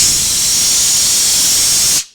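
Fuel sprays hard from the fuel line of a 1991 Honda Civic that sat unused for over ten years: a loud, steady, broadband hiss lasting about two seconds, then cutting off sharply, with no talk over it.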